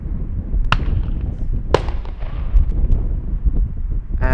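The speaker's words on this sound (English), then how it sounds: "the Schiphol Scarecrow firing off another round of fireworks to make sure that the birds stay away" Fireworks fired by the bird scarer at Amsterdam Schiphol Airport to keep birds off the runway: two sharp distant bangs followed by rumbling booms and crackle over steady outdoor airport background noise.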